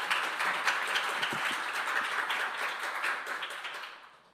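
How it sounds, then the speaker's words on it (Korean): An audience at a youth speech contest applauds a speaker, a continuous wash of many hands clapping heard from some distance at moderate volume, thinning out toward the end. "큰 박수 부탁드리겠습니다"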